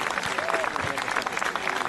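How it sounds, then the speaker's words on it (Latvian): Lively applause from an audience at a celebration marking a team's 70th game, a dense, steady spread of clapping with a voice faintly mixed in. "Sveicam visi vēlreiz ar vētrainiem aplausiem"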